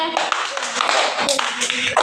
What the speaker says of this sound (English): Clap பண்ணுங்க.